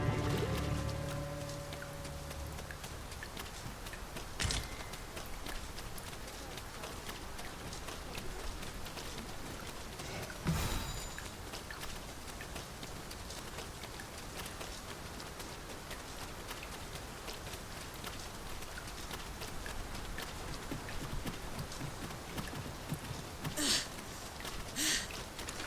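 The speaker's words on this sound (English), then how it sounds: "Tis raining. The weather may yet turn fierce." Steady rainfall patters across an outdoor scene in the video game Dragon's Dogma II, a dense, even hiss throughout with a couple of brief louder knocks and no talking.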